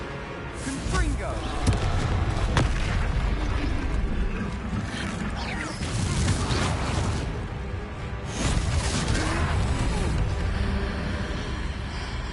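Blasting spell explosions from the Hogwarts Legacy video game during a troll fight, as loud booms and whooshes over a steady, dense game soundscape with spoken voices throughout.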